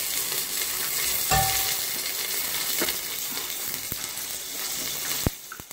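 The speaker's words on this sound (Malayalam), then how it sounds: "നെയ്യ് ഒഴിച്ചു" Ghee hits a very hot pressure cooker already holding curry leaves and garlic, giving a steady, close crackling sizzle broken by a few sharp clicks and taps of a utensil.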